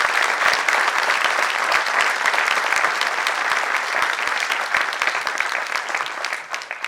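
Sustained audience applause at a felicitation event honouring the head of India's new Parliament building project, steady dense clapping from a crowd that holds evenly for several seconds before tapering slightly at the end.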